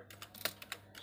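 Keys on a computer keyboard tapped while entering a command at a router CLI, a handful of separate, fairly quiet clicks spaced unevenly across a second with no voices.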